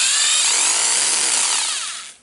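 A Hitachi DH22PH rotary hammer drill, just reassembled after service and set to hammering mode, runs briefly with a loud, steady high-pitched motor whine that winds down at the end.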